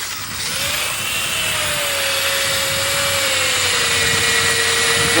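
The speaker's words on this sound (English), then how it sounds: "Why don't you start the chainsaw right now?" A chainsaw revs at high, steady speed, its loud whining motor holding a near-constant pitch from start to finish with no voices over it.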